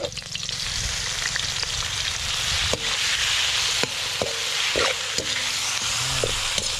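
Pork intestines (litob) fry loudly in a pan for Capiz-style dinuguan, a steady close sizzle broken by several sharp taps and scrapes of a utensil against the pan.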